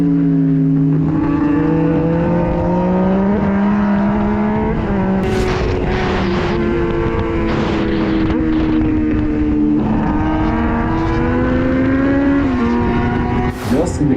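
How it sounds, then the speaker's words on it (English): A sportbike's engine howls loud and close as it is ridden fast through curves, its pitch rising and dropping through shifts, with wind buffeting the microphone throughout. "This biker rides so fast that he leaves his body well behind, but yet he rides very smooth."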